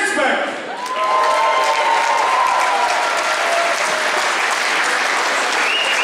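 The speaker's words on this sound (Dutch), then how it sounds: "geef ze een geweldig applaus" Loud, dense applause from a revue audience at a carnival-style stage show, sustained without a break for several seconds as a wash of many hands clapping together.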